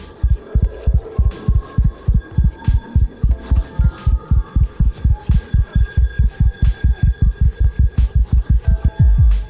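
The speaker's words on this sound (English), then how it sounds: "my revive meter, my heartbeat's increasing faster and faster" A heartbeat from the Ra Survival video game, sounding as the player character is dying: loud, deep thumping beats that speed up steadily from a slow pulse to a rapid pounding, with a low hum underneath and no talk.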